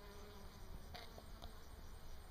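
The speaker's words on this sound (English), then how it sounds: "the sound of this meadow is the sound of buzz, buzz, buzz" Insects buzz steadily across an open meadow edged by young birch woods, a constant dense drone with a few brief closer fly-bys standing out.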